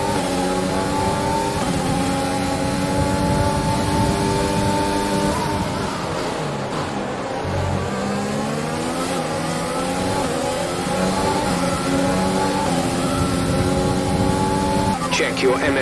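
A Formula 1 car engine in the F1 2020 video game screams at high revs with a steady, loud whine that dips briefly and climbs again, while a radio voice talks over it.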